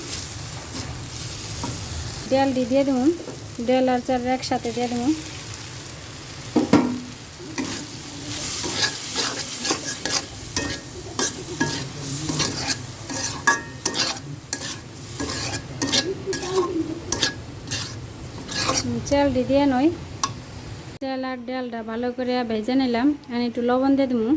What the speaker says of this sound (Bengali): আর ভালো করে আবার একটু নাড়াচাড়া দিয়ে ভেজে নেই চাল আর ডালের সাথে মশলা মিশানো হয়ে গেছে